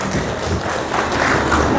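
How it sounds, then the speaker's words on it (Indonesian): An audience at a seminar claps together in dense, continuous applause for a couple of seconds, steady and fairly loud with no voices standing out. "Tepuk tangan untuk ibu."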